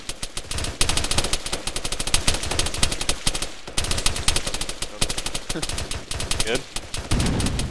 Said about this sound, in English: Oh, they're shooting behind you.